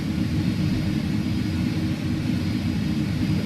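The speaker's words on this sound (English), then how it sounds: "But you don't need 1080p for these engine sounds here" Airbus A300-600R jet engines in a flight simulator game, a steady, dense, loud roar with a deep low rumble and airy hiss, constant throughout with no talking.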